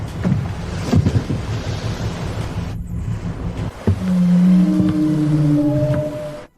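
Giant whale calling its companions at sea: long low moaning tones rise and hold near the end, following a stretch of wind, waves and rumbling boat noise.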